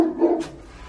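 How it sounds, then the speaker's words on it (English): A single deep dog bark, fairly close and loud, followed by a brief quiet tail. "I hear it barking."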